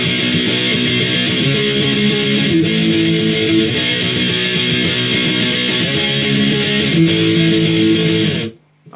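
Distorted electric guitar power chords play a verse, a loud, driving strummed pattern cycling through three chord shapes, close and unaccompanied, stopping suddenly.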